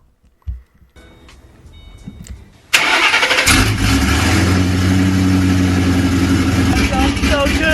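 A Shelby GT500 Mustang fitted with open headers cranks over and fires up with a sudden loud bark, then settles into a deep, rumbling, choppy roar with throttle blips, close and dominant after some quiet handling noises.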